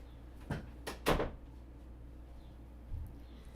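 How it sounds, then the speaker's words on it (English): An indoor door is shut: a few quick knocks and handle clicks, then one louder thud as it closes, with a soft bump after. The sounds are close and brief over a quiet room hum, and no one speaks. "I'm gonna shut the door."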